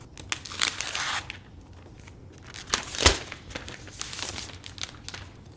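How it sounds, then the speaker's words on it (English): Packaging being removed from a new 2018 MacBook Pro, with crinkling and crumpling of wrap in irregular bursts, a sharper tearing or crunching peak midway, close and fairly quiet, no talking. "Let's unwrap this."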